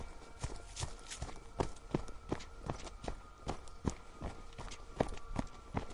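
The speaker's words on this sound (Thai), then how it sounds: "เสียงฝีเท้าของเธอดังตามหลังมาติดติด" Running footsteps for a night chase in a ghost story, a steady quick patter of hard steps close behind with no voices.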